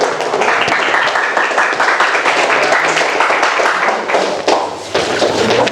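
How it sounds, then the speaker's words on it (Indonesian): A classroom group claps for a team that just finished presenting, a dense, continuous burst of applause lasting several seconds with no pauses. "Tepuk tangan untuk kelompok 3"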